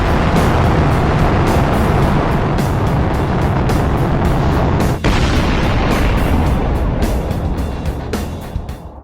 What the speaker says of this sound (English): So I'm gonna send this game on a rocket into a black hole so that it can never escape